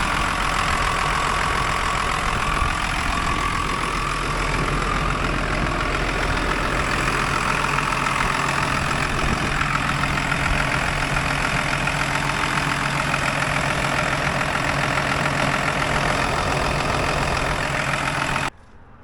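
A 6-speed Cummins diesel engine idles in a machine at an equipment auction, a loud, steady low rumble with a faint knock that runs unbroken before cutting off abruptly at the end.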